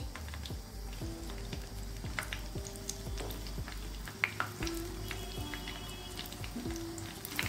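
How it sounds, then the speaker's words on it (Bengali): Chicken satay pieces sizzling in medium-hot oil in a pan, a quiet steady crackle with small pops and drips, heard alone without talk. "এইভাবে একটা করে আমি দিয়ে ভেজে নেব"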